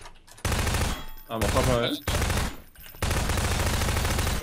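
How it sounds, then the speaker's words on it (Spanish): Rapid bursts of gunfire in the Prop Hunt video game, loud machine-gun volleys repeating in several stretches with short gaps, while players talk and shout over them. "Hemos disparado un montón de veces y ha pasado algo en la lámpara."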